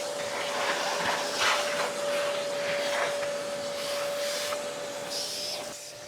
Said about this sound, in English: Right, so I've given it a quick hoover all the way through.